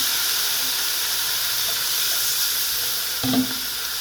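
Water added to a hot pan of fried spices: a continuous steady hiss and sizzle throughout, with a faint soft knock near the end.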